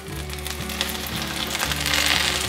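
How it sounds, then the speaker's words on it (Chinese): Steamed vegetarian pork chops pan-fry in hot oil, giving a close, steady, crackling sizzle that builds slightly louder toward the end. "把蒸好的素猪排放进来煎。"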